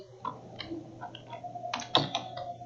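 Quick, close keystrokes as code is typed on a computer keyboard, an irregular run of light clicks with a few louder taps near the end over faint room hum.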